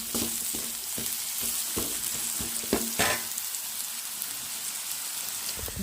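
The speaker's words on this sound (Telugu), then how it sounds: "వాటిని బాగా ఫ్రై చేసుకోండి" Okra masala frying in a pan: a dense, steady sizzle like rain, broken by a regular series of sharp spoon knocks and scrapes early on, close and fairly loud with no talking.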